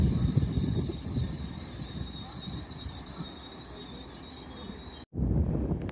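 An LNER Class 801 Azuma train runs through Newark Northgate station on the East Coast Main Line, a steady loud rumble with high whining tones throughout, briefly cutting out before resuming.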